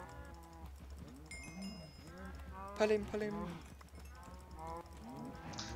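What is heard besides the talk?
cows mooing in the video game Minecraft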